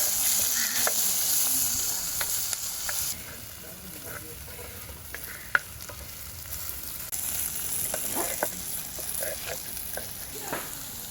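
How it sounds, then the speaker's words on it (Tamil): Onions sautéing in a pan for a homemade cuttlefish curry, with a constant loud sizzle and scattered stirring scrapes and ticks, one sharp knock in the middle; faint voices in the background. "மகன் வதக்குறாரு."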